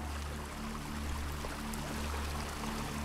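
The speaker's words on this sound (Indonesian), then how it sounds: "Deru suara arus sungai di pinggir bangunan itu menjadi hal yang biasa" Steady roar of a strong river current flowing beside a building, a broad continuous rushing wash with no break, heard alone without voices.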